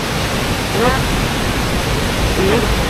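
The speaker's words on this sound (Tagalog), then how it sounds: "nandito na tayo sa may Lower Falls" Lower Falls at Johnston Canyon roars as a steady, loud wash of water noise throughout, with faint voices mixed underneath.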